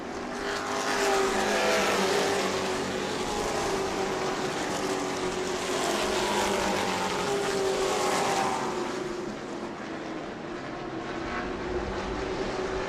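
Race cars lapping a circuit, engines roaring steadily and close by as they pass in a continuous loud stream, with a slight dip and fade toward the end.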